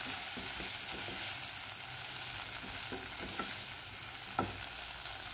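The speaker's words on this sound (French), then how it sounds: "puis je ferai griller le tempeh" Tempeh marinated in agave, soy sauce, oil and lemon grills in a pan with a steady close sizzle, broken by a few scraping stirs and one sharper clack near the end.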